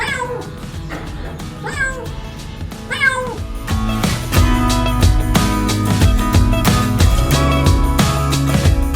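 A cat meows three times at close range, then loud music with a steady beat takes over for the rest.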